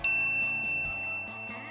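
A single bright bell ding strikes at once and rings out as a notification sound effect, its clear tone sustaining and slowly fading over a soft musical backing, with no voices.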